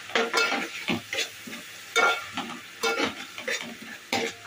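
A spoon scrapes and stirs spices and paste in a sizzling pan for kadhi, a series of close, irregular strokes over a soft frying hiss.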